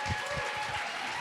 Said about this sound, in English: Let's give a round of applause to Miss Terry.